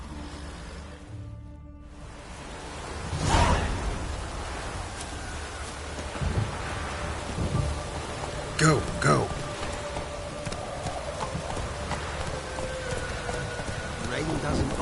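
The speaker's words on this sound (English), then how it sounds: "Rain doesn't bother you, it seems." Steady rain pours down through The Witcher 3 video game, a constant hissing wash across the whole clip, with a low thunder rumble partway through and characters briefly speaking over it.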